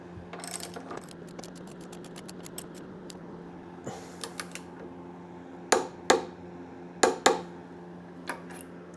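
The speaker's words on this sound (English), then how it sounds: "Put a wrench on it, go tighten." A wrench tightens a bolt on a Ninja 400 motorcycle during installation of a full protection kit. Sparse metallic clicks and clinks come first, then a few sharper clanks, all quiet and close with no voices.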